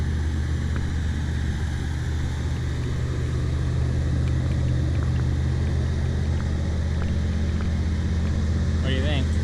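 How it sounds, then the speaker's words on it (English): A 1979 C3 Corvette engine idles high on choke, a steady, even low rumble that holds without change throughout. "In the sun, so it's still idling high, but once the choke fully turns off and the flap opens up, it idles normally"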